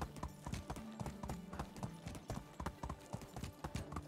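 Galloping horse hooves in Medieval Dynasty, a stallion ridden fast across the steppe, with rapid, even clip-clop beats sounding close and steady throughout, no voices.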